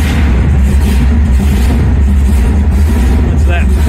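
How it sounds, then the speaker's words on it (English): A car rolls in at a muscle car and Corvette show, its engine rumbling steadily up close with revving, smoke coming from the tailpipes, while a crowd chatters and voices talk throughout. "That car just rolled in."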